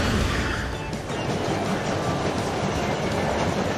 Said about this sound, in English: The train is very fast.